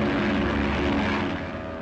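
A propeller plane drones steadily overhead in a 1939 film, a loud, broad engine roar that holds constant and eases off slightly toward the end.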